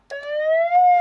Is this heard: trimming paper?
no